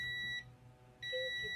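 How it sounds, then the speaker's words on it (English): Two sharp electronic beeps, each a steady high tone lasting a fraction of a second, separated by a brief gap. "Stop beeping."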